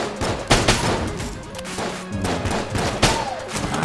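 Rapid gunfire in Enter the Gungeon aimed at a chest: a dense stream of punchy shots with a few louder bursts standing out, loud and continuous over game effects.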